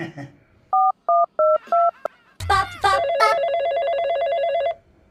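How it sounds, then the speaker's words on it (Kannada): A phone being dialed, giving four short evenly spaced keypad tones followed by a steady ringing tone, with a brief voice and rustle between them. "ಈಗಲೇ ಫೋನ್ ಮಾಡ್ತೀನಿ"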